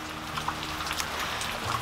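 Rain falls on a rainy morning, a steady soft hiss with scattered droplet patter on surfaces, continuous and fairly quiet with a faint low hum beneath and no voices.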